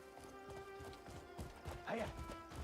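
Horse hooves in the video game Crimson Desert clip-clop in a quick, rhythmic run, fairly faint, with a brief whinny near the end and a voice talking over them.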